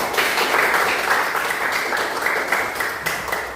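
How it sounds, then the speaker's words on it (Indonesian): Classroom applause at the close of a Christian lesson on forgiveness: a steady wash of many hands clapping at once, fairly close and even in volume, running the whole time with no voice over it. "berikan tepuk tangan untuk kita semua"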